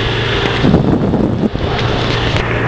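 Golf cart ride through a fairground, a steady low motor hum and rolling noise with wind buffeting the microphone, continuous and close, with no talking.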